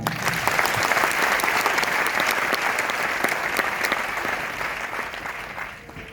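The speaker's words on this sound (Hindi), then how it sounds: "तो एक बार ताली होनी चाहिए।" An audience at a DXN business meeting claps continuously in a dense, steady burst of applause that holds strong and then tapers slightly near the end.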